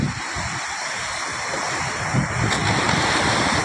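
Sea waves wash steadily onto a shoreline strewn with litter, a continuous close rush of surf with wind noise on the microphone and no voices.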